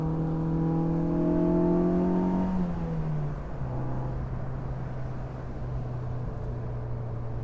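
A 1994 Mazda Miata driving through a turn on a winding road, its engine droning steadily from inside the car, pitch sliding down as it eases off before settling into a lower, even hum.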